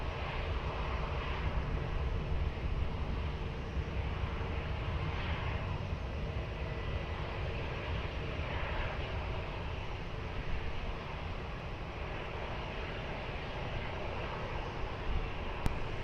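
A steady, distant roar of aircraft engines at Lisbon Airport holds unbroken throughout, broad and even in loudness, with no voices.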